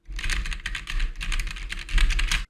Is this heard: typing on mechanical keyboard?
yes